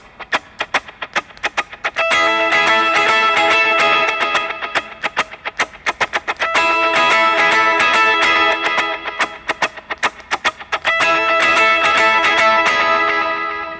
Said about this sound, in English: So you do muted strum